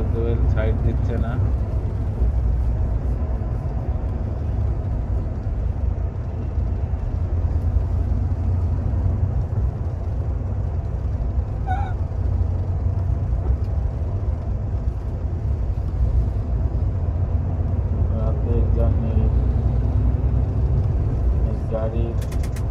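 A sleeper coach bus cruising down a road, its steady low engine and road rumble droning throughout, with a voice talking over the ride and a few brief mechanical clicks and rattles.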